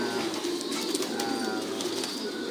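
Pigeons coo steadily at a pigeon farm, a dense, continuous murmur of many birds close by with soft rolling calls layered over one another and no talking.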